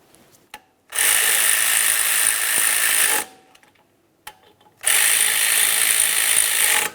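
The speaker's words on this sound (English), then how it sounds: "Start in your 2 10mm headed bolts and snug them up." A power ratchet spins two 10mm bolts snug on a 2003-2007 Honda Accord front knuckle, two loud steady whirring bursts of about two seconds each, separated by quiet pauses with small clicks.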